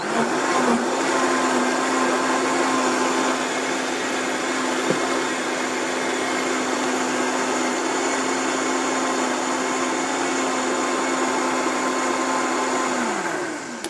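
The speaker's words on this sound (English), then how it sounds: "we could keep it going in the blender for just a few minutes" A blender whirs steadily on raw food with fresh unpeeled ginger, a loud constant motor drone running for about fourteen seconds before winding down at the end.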